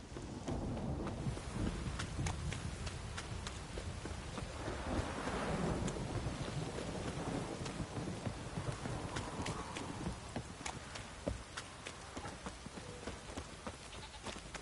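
Steady rainfall with low rumbling thunder fills a stormy scene in The Witcher 3: Wild Hunt, with horse hooves clip-clopping through the wet downpour and no voices.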